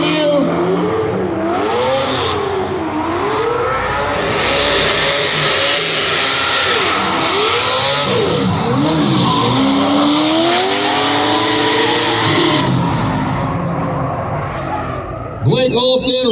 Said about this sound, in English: the black and purple TNBC CoreWorks BMW, and the pink and green vehicle of Rome Charpentier.